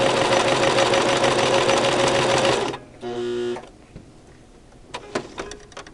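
A Brother LX3014 sewing machine stitches through layers of muslin in a fast, loud mechanical run for nearly three seconds, then a short second burst, followed by quiet handling clicks.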